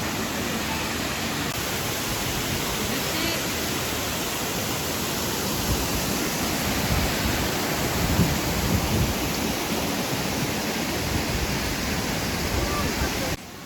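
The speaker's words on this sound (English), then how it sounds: "There's the waterfall." Steady, broadband rushing water fills the scene without pause, a constant close roar like a waterfall pouring nearby.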